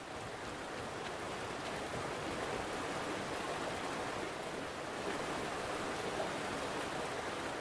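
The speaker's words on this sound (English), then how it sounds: "That water sound effect is pretty nice." A flowing stream in the video game Greedfall gives off a constant, even rush of water, a soft hissing wash that holds steady from start to finish with no voices over it.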